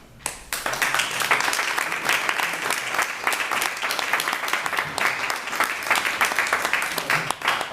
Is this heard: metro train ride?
no